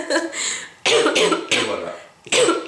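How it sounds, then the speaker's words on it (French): Harsh, persistent coughing from a woman, several loud bursts in quick succession separated by short gaps, close and dry. "j'ai toujours cette toux insupportable"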